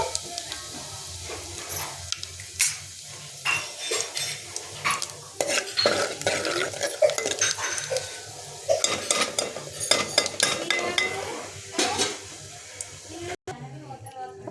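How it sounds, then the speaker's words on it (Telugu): Dried red chilies and cumin seeds crackle and sizzle in hot oil, with a spoon clinking against the pan and stirring throughout, close and fairly loud. "ఇప్పుడు నూనె మంచిగా కాగింది. ఎండుమిర్చి జీలకర్ర వేస్తాను."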